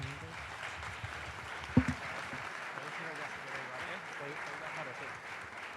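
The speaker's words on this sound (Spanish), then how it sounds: "Un aplauso, por favor, para los tres." Audience applause for three speakers at a Madrid AI meetup, a steady mid-level patter of clapping with one sharper clap near the middle and some background murmur.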